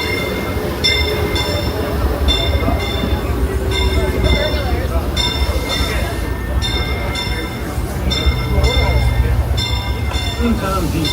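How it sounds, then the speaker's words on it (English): The Disneyland Railroad train rolls into a station with a continuous rumble and a wheel squeal, and rhythmic clacking of the rail joints repeats throughout. It is loud and close, with a voice faintly underneath. "please wait until the train comes to a full stop"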